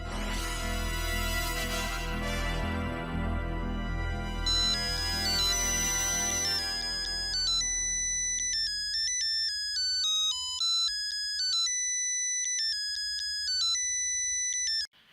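A sustained musical chord fades into a bright electronic ringtone melody that repeats its beeping pattern over and over, with no voices.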